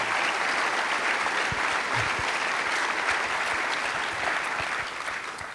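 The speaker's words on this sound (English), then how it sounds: "Please give a round of applause." A conference crowd at a closing session gives sustained, even applause, many hands clapping steadily at moderate loudness and tapering slightly at the end, with no voices over it.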